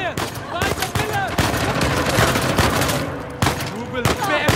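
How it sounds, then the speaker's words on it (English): Rapid gunfire in Uncharted: The Lost Legacy, loud bursts and overlapping shots crackling almost continuously, with shouting voices mixed in. "That was gunfire!"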